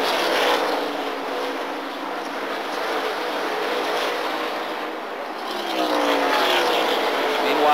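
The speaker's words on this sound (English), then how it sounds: "as that number 6 car closes in on Hut" 1987 stock car race with cars closing in on the track: steady roaring engine noise swelling and fading as the cars pass, moderately loud, with no clear talk.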